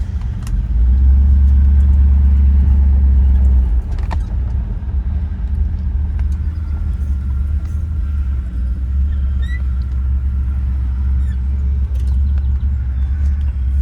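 A 1963 Chevy Impala SS's 409 V8 rumbles loudly and steadily as it drives, easing off briefly before carrying on at an even, deep drone.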